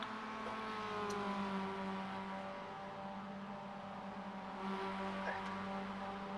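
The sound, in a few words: race car engine screaming on track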